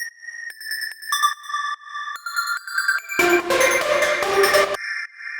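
Trance synth lead from a techno production, bright plucky notes in a stepping melodic pattern, then a denser, fuller section joins with chords and low end for about a second and a half before the lone lead returns.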